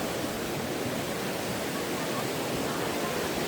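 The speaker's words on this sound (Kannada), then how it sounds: "ನೀರು ಹರ್ಕೊಂಬರೋದು" Dudhsagar waterfall pouring down, a dense, steady roar of rushing water that fills the whole stretch at constant loudness.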